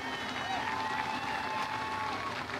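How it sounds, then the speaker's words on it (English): Crowd applause and cheering for the winner of a UMP street stock A-main dirt track feature, a broad steady wash of clapping with harmonic voices layered over it, mid-distance in an outdoor grandstand. "Give him a round of applause."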